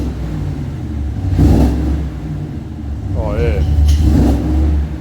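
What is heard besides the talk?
Chevrolet Silverado and Dodge Ram engine revving with full exhaust system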